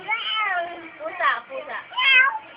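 A child imitates a cat with a few high, wavering vocal meows, close and fairly quiet, alone without other sounds.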